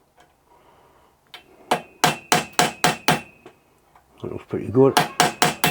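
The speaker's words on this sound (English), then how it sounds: "You don't want to centre punch it too hard because you don't want to spread the stud." A hammer taps a centre punch set on a snapped stud, a run of sharp metallic strikes in steady rhythm, close and fairly loud, with a second quicker burst after a short pause; someone speaks briefly between the blows.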